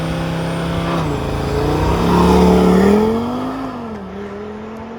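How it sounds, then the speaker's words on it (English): A 2023 Audi RS3 launches hard, its five-cylinder engine rising to a loud, close roar that climbs in pitch, peaks, then eases with a gear change while it keeps pulling. "Mr. Ashley, please launch this car"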